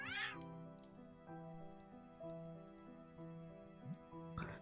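A cat meows in the Italian-dubbed video game Children of Silentown, a rising cry at the start and another at the end, with a soft, steady music-box-like game tune running between them.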